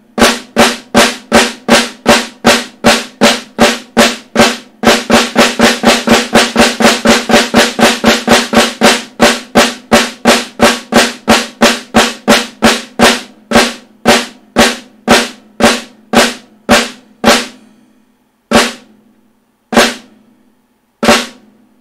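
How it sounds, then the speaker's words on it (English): A snare drum plays a long run of doubled flam strokes, steady at first, speeding into a dense roll, then slowing to sparse, isolated hits. "So there's the perfect flam."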